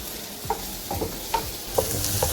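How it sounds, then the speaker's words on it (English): Onion sautéing in a pan as it begins to brown, a soft steady sizzle broken by several distinct stirring scrapes spaced about half a second apart. "Saute it well. As the onion gets little brown, we will add sweet corns"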